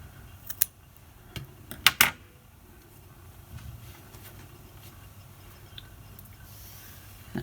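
Scissors snip through teal and green contrast yarn during jacquard knitting, giving a few sharp close snips early on, then a quiet room with faint low background hum.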